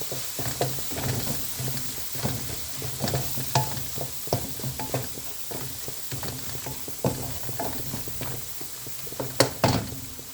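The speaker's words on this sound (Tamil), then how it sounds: "இப்போ இதை நாம் நல்லா மிக்ஸ் பண்ணிடலாம்." Parrot fish tail pieces being mixed and fried in masala in a pan, with close, repeated scraping stirs over a steady sizzle and no talking.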